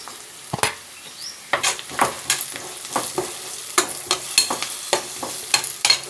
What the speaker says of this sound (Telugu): కూరకు సరిపడా ఉప్పు రెండు స్పూన్లు కారం వేసి కలుపుకుందాం